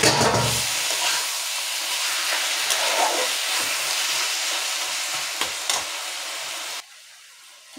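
Taro leaves go into a hot pan of lightly fried grated coconut, setting off a loud, steady sizzle with stirring scrapes for several seconds before it quickly dies down near the end.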